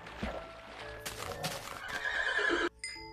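Horse in the video game Minecraft, a loud close whinny with rising and falling tones that breaks off abruptly near the end, mixed with light clip-clop sounds.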